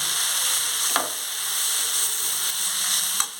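Grated yellow pumpkin fries over a low flame for halwa, producing a continuous, even sizzle with a couple of soft stirring taps.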